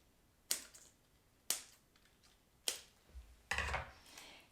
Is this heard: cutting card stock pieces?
yes